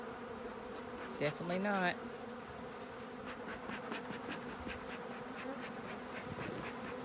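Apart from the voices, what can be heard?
honeybees buzzing in a box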